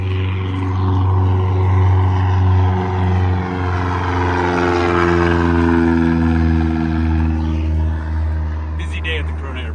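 A propeller airplane passes overhead, a loud droning engine hum that swells and then slowly fades, with people talking over it.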